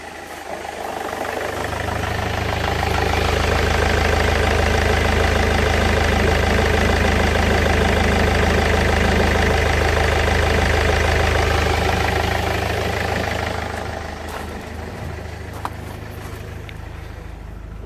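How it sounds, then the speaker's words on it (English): A Land Rover Freelander TD4 diesel, suffering a limp-mode fault, cranks and settles into a loud, steady idle with a rough clattering rhythm, running for about ten seconds before shutting down. "So let me start the engine."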